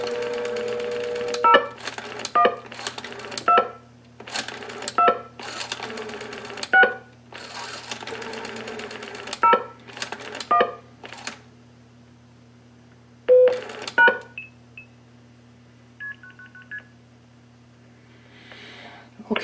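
A pulse-dial-to-DTMF converter in blue box mode sends dialing tones through a telephone receiver resting on a towel: a series of clipped tone bursts in irregular groups, followed by a few fainter, higher beeps near the end.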